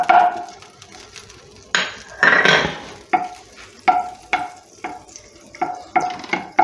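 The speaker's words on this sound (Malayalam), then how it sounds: "അതിലേക്ക് നമ്മൾ എടുത്തു വെച്ച ബട്ടറിൽ നിന്ന് ഒരു പകുതിയോളം ഈ പാനിലോട്ട് ഇടുകയാണ്." Butter dropped into a hot pan, a sharp sizzle followed by a series of irregular clinks and scrapes of a utensil against the pan, close and moderately loud.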